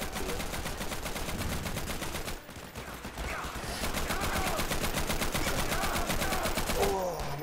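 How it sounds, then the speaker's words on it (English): Rapid machine-gun bursts and gunshots from a Garry's Mod roleplay game fire almost continuously, loud and close, with a short lull midway before the shooting resumes just as densely. "I heard a bunch of shots, guys."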